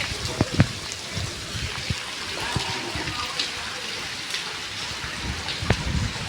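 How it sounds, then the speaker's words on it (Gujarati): Steady rain patters down with scattered louder drops and splashes, a moderate wash of water noise throughout. "હવે થોડોક ધીમો પડી ગયો છે વરસાદ."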